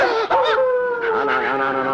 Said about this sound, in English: That was only a dog.